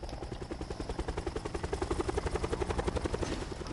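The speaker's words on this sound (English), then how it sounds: "Taking the chopper and I'm gonna jump." A helicopter in a Blackout video game match throbs steadily with a fast, even rotor pulse, loud and close throughout, with no voices over it.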